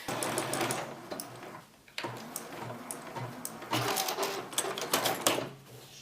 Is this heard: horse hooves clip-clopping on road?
no